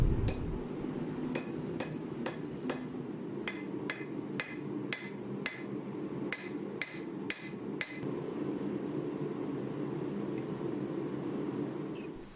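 A hammer strikes steel at a forge while shaping a petty knife from canister Damascus made of nails, a dozen sharp ringing blows in an uneven rhythm over a steady roaring hum, with the blows stopping partway through.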